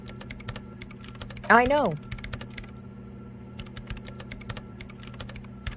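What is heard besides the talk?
typing on a computer keyboard in the video game Disco Elysium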